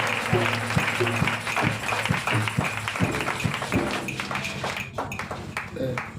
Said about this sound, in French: acclamez Jésus très fort